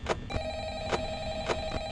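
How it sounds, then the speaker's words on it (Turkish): An in-game telephone rings in the horror game Five Nights at Freddy's, giving several evenly spaced ring bursts with a sustained electronic tone running beneath them, loud and close. "Yine telefon çalıyor gerizekalı yine aynı kişi arıyor herhalde."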